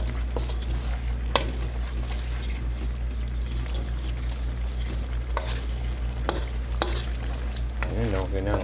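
Pork liver stir-fried in a pan for homemade igado, a steady frying sizzle with scraping stir strokes and occasional clinks close by, no talking.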